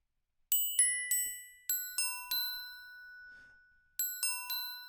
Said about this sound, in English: I'm going to use a glockenspiel.